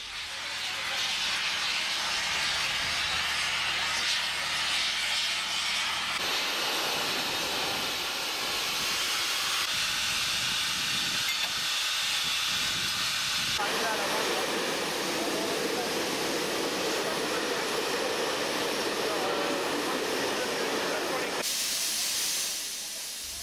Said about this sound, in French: la 403, chargée d'assurer le premier des deux trains, quitte le dépôt pour aller se mettre en tête